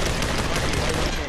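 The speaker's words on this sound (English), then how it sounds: "Oh, I gotta pull out my pistol." Gunfire in the VR game Population One, a short, loud, dense burst of rapid shots filling the whole moment.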